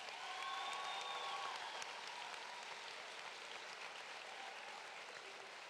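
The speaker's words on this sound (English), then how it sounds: "Please give these students a nice round of applause." An audience at a 2019 technical college completion ceremony gives graduating students a round of applause, heard as a faint, dense, steady patter of many hands that slowly fades.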